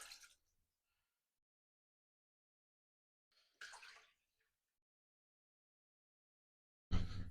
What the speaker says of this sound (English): water's going in anyways